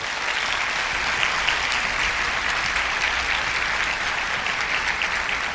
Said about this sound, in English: let's have a round of applause and let the presentation start.